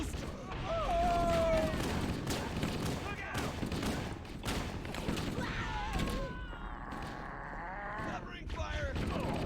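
Bursts of rifle and weapon fire in Halo: Combat Evolved aboard the Pillar of Autumn, with repeated shots running steadily under game dialogue and voices.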